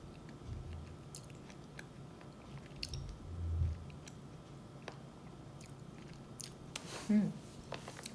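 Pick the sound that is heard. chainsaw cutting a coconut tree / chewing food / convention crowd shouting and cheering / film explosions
chewing food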